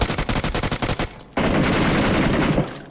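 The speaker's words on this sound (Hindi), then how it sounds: "मैं ऐसे गोली चलाता हूं हाथ पे, लेकिन फिर ये छुप गया" Rapid automatic gunfire from a UMP submachine gun in the mobile game BGMI, a dense burst of evenly spaced shots, a brief pause, then a louder sustained volley close up with no talking.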